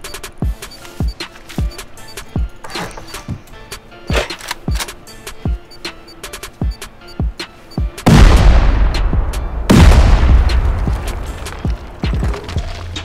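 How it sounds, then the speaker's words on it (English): Gunfire during a base raid in the survival game Rust: a steady run of footstep-like clicks, then two loud, close blasts of shooting in quick succession that briefly swamp everything. "And I'm getting shot at."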